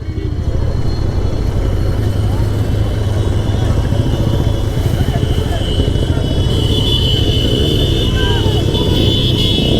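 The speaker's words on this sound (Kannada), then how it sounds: "the bike rally is going on" Motorcycles roaring past in a bike rally with a police VIP escort, a dense continuous engine drone close by, with a voice speaking over the traffic noise.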